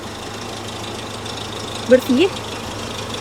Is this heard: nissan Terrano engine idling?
yes